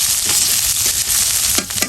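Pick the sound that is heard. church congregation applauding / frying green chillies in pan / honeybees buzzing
frying green chillies in pan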